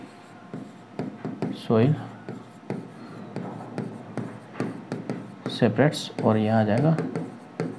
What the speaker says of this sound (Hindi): चलिए एक तरफ लिखना